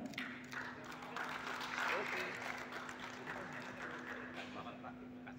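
Faint, distant applause from a crowd at a safety culture award ceremony in Indonesia, a steady patter of clapping over a low constant hum.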